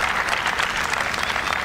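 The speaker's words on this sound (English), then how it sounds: "You can hear the crowd roar," A tennis crowd at the L & T Mumbai Open WTA 125 applauds after a point, with dense, loud clapping and cheering that stays continuous across the short moment.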